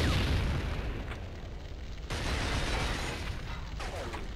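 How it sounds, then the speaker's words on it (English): A grenade goes off in the PSP shooter Killzone Liberation: a loud burst of explosive noise, followed by a second sharp blast about two seconds later, with no speech. "Grenade!"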